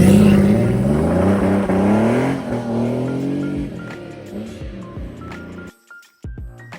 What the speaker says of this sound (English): He span the tyres, leaving skid marks behind.